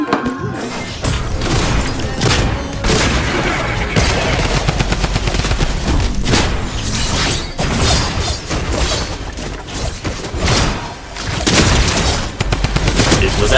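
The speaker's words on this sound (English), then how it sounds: "I'm a monster with the charge shotgun." Charge shotgun blasts in Fortnite, loud and close, fired in rapid succession amid other gunfire and game effects, continuing densely for over ten seconds.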